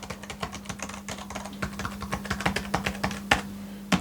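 Function keys along the top row of a computer keyboard are pressed in a dense, fast patter of close plastic clicks, several sharper clacks standing out near the end, with a low steady hum underneath and no talking.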